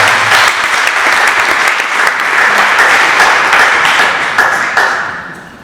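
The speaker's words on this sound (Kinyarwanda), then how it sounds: "Dukomere Imana amashyi." A church congregation applauds in praise of God, a loud, dense wash of clapping that holds steady for several seconds before tapering off at the end.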